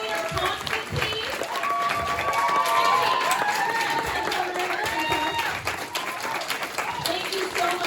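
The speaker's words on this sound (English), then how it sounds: "round of applause for all of our folks" Crowd applause and cheering at a panel during the Holiday Matsuri anime convention, continuous clapping mixed with excited voices and whoops from the audience, fairly loud and sustained.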